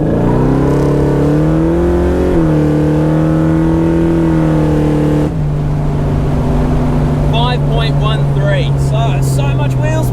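A car launching hard to 100 km/h with heavy wheel spin, a loud engine roaring and climbing through the revs with a brief drop at a gear change, then tyre squeal at the end, voices faintly underneath.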